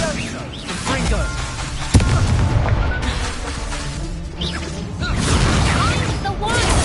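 Fiery spell blasts and booming impacts from Incendio and Confringo in Hogwarts Legacy, loud and crackling with a sharp burst near two seconds, layered under a shouting voice.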